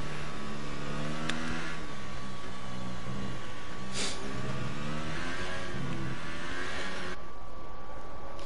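A racing car engine in an F1 video game holds a steady high whine over a lap, rising and falling with gear shifts and revs, continuous and fairly loud with no talking.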